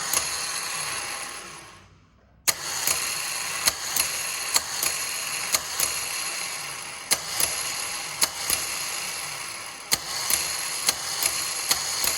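Truck starter motor spinning on a bench test, a steady mechanical whir that kicks in after a short quiet gap, punctuated by regular sharp clicks and ticks while it runs.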